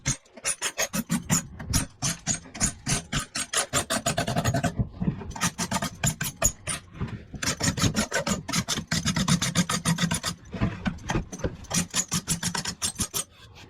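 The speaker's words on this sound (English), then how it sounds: "So I'm going to start off with scraping this" A hand scraper rasps dried glue off a wooden cutting board in a woodshop, a rapid rhythmic series of close, sharp scraping strokes with a brief pause midway.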